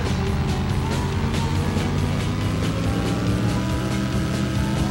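In a Dukes of Hazzard racing video game, a car engine drones loud and continuous with road rumble throughout, no breaks, no voices.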